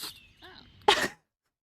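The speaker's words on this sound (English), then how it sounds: "I have not ever heard an echidna sneeze." An echidna gives a single sharp, close sneeze, preceded by faint squeaky snuffling sounds, then silence.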